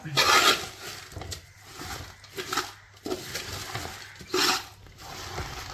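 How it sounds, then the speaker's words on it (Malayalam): Ground dry ginger, cardamom and cumin powder being stirred into a pan mixture for a sweet dish, with intermittent scraping and light metallic clinks of a spoon against the pan, close and fairly quiet. "അത് നമ്മൾ ചേർത്ത് കൊടുത്തു അത് ഇട്ടൊന്ന് ഇളക്കാം"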